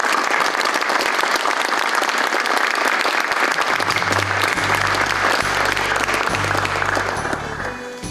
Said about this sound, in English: Let's have another round of applause for this year's King and Queen